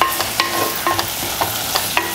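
Soft minced meat is stirred in hot oil in a pan for a drumstick and milk curry, giving a brief run of rhythmic scraping strokes, about one every quarter second, over a light sizzle, close and loud.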